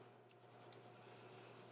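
Prismacolor colored pencil scratches softly across coloring-book paper in quick, light repeated strokes, faint and close, with no talking.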